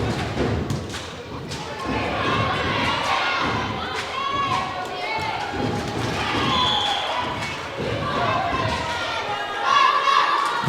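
At a high school volleyball match in a gym, an excited crowd cheers and shouts with voices rising and falling, while sharp thuds of ball contact and squeaking shoes cut through the din.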